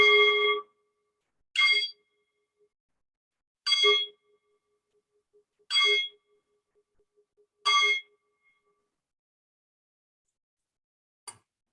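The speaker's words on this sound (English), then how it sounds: "So we ring this bell." A handheld bell rung to open a storytelling workshop in Chennai, five clear bright dings at steady two-second intervals, each ringing briefly and decaying, loud and close in an otherwise quiet room.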